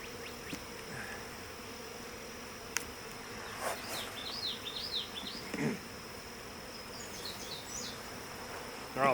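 Honeybees buzzing around a hive frame during a sugar shake mite check, a constant low hum with individual bees zipping past close by, faint and steady throughout.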